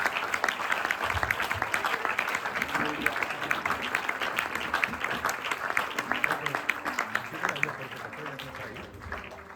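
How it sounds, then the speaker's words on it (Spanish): A church congregation claps steadily through an evangelical sermon, a dense wash of hand claps sustained from start to finish, with a few voices and cheers mixed in. "Dale un aplauso a este Dios tan maravilloso"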